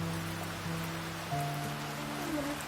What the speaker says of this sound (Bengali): বৃষ্টির একটু দেখিয়ে নিই ওয়েদারটা আজকে